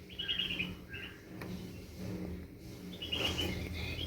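A baby bird gives quick bursts of high, thin chirps, two clusters at the start and another near the end, fairly close over a faint, low background hum.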